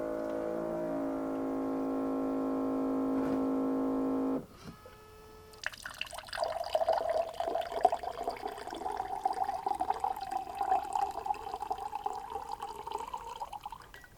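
A SodaStream Fountain dispensing still water: a steady mechanical hum for a few seconds, then a click, and a continuous close trickle of water filling a container with small splashy fluctuations.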